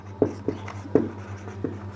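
Chalk or a marker writes on a classroom board in a few short, separate strokes and taps, close and fairly clear against a low steady hum, with no talking.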